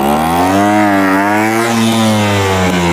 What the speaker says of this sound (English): try and rev up the engine and then use the clutch to start moving the bike